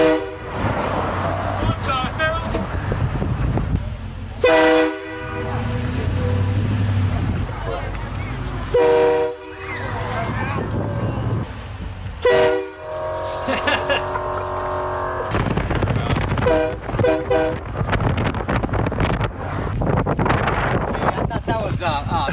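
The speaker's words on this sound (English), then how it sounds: "So we put a train horn in my truck," A train horn fitted to a pickup truck blasts in several loud, sustained chords, with breaks between, over wind rumble and people talking.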